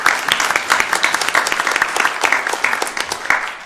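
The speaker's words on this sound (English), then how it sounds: "We could get some applause going." An audience at a panel session on collaborative conviction review projects claps steadily, a dense patter of many hands, fairly close and continuous for a few seconds with no talking over it.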